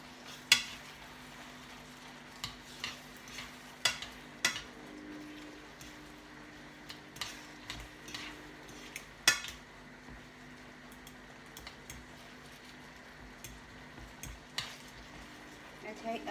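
Mixed fish and prawns with vegetables in a light cream sauce being stirred in a pan, a soft simmer under scattered utensil clinks and scrapes against the pan at an uneven pace.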